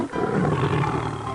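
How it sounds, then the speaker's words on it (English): A tiger roars once, loud and close, a rough sustained growl that swells and slowly fades, with no talk over it. "Tiger."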